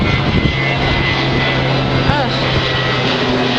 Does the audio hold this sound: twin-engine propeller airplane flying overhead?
yes